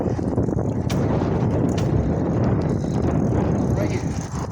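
Strong wind buffeting the microphone during a bike ride on a street, a constant loud low roar throughout with a voice faintly mixed in.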